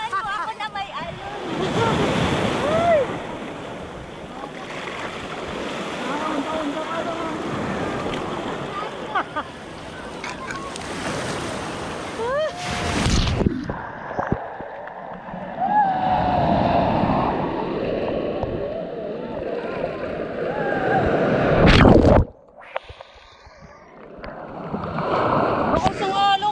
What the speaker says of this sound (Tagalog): Lakas ng alon, grabe ka.